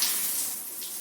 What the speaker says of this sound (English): Time for a hot shower.